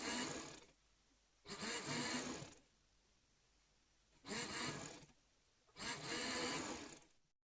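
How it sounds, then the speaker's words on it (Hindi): A sewing machine runs in short bursts, stitching along the edge of trouser fabric, with four loud whirring runs separated by quiet pauses and no talking. "अब इसे जो है ना यहाँ पे एक सिलाई लगा लेते किनारे की।"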